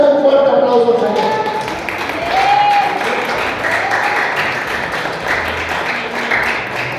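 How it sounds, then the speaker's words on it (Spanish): Spanish-speaking church congregation clapping loudly for the Lord during a service, a dense sustained applause with voices and cheering mixed in throughout. "Dale un fuerte aplauso al Señor."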